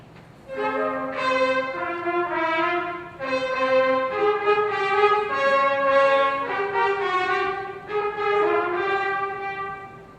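A band plays an inverted fugue theme, several melodic instrumental lines interweaving in a flowing, contrapuntal passage at a children's concert, played clearly with no voices.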